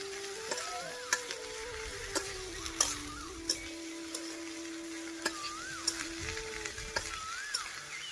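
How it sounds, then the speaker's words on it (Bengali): Sliced okra fries in a pan with a soft, quiet sizzle, punctuated by light ticking knocks of a utensil stirring against the pan at irregular intervals. "ঢেঁড়সটা দেওয়ার পর হচ্ছে এইভাবে কিছুক্ষণ ভেজে নিব"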